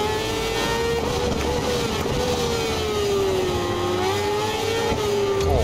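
A Suzuki GSX-R1000 motorcycle engine in the racing game Ride 4, a loud sustained high revving whine that dips and climbs with throttle, steady and close throughout.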